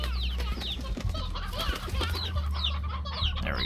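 A flock of hens in the video game Slime Rancher clucks busily and continuously, with overlapping rising squawks and a brief flutter of wings, close and fairly loud.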